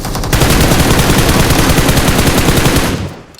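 Automatic gunfire in a video game sounds as one loud, continuous rapid-fire burst lasting about three seconds before cutting off, with no voices over it.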